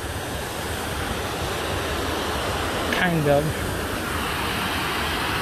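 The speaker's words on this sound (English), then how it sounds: "So there's a waterfall." Waterfall in Johnston Canyon, Banff National Park, giving a steady broadband rush of falling water throughout, with a person speaking briefly over it near the middle.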